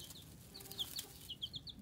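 Meat chickens and other young chickens cheep and cluck softly in the background, a scattered series of short, high chirps over a quiet barn ambience.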